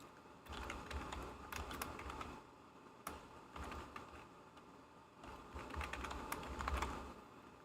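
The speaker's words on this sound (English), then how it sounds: "Oh, he's typing." Computer keyboard typing in bursts of quick, soft key clicks separated by short pauses, quiet and close with a low background hum.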